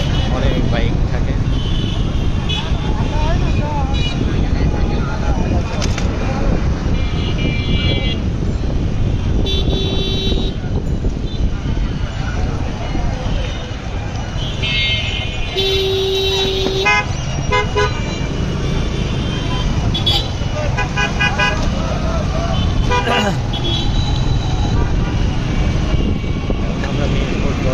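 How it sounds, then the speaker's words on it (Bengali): Heavy traffic jam on a Dhaka street, with many cars and motorbikes: repeated car horn toots and honks over a constant rumble of engines, while people talk throughout. "রাস্তায় প্রচণ্ড জ্যাম এবং গাড়ি ঘোড়া এবং বাইকের মাত্রা তো অনেক বেশি,"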